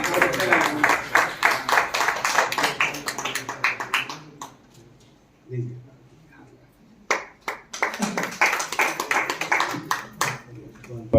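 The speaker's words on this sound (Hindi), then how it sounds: "आपकी तालियों की गड़गड़ाहट है" An audience at a World Book Day panel discussion claps in a lively burst of applause, falls quiet for a few seconds, then breaks into a second round of clapping.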